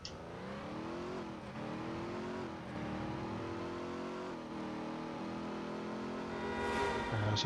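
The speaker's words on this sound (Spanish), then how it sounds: "Se nota que suena más el coche." A car engine revs hard in a PS2 driving video game with nitrous fitted, a steady loud roar rising and falling in pitch as it accelerates through gear changes.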